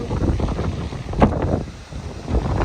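Strong wind gusting around a greenhouse during a wind stress test, a loud rough roar with heavy microphone buffeting that swells into a sharper gust partway through and then keeps blowing, no talking.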